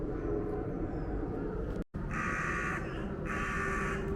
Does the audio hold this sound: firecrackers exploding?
no